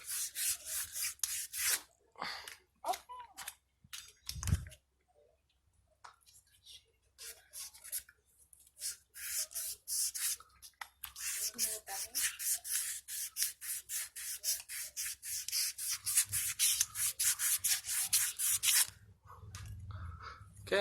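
Snap rings from a front wheel bearing job are rubbed with sandpaper, giving a close, dense run of rapid scratchy strokes with a brief pause early on, ending abruptly near the end.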